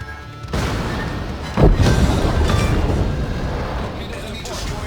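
A torpedo hit sinking a destroyer in World of Warships lands as a heavy boom over ongoing battle rumble, with a sharp blast partway through followed by a long, slowly fading roar.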